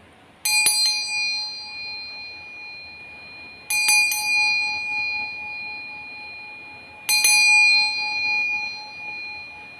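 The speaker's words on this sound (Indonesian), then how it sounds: "Kita akan memulai dengan ditandai lonceng berbunyi." A bell struck three times at a slow, even pace to open a tarot reading, each strike a bright ringing tone that rings on and fades before the next, in a quiet room.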